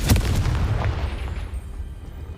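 A Confringo blasting spell explosion in Hogwarts Legacy: one loud, close boom at the start, then a rumbling decay that fades over the next two seconds.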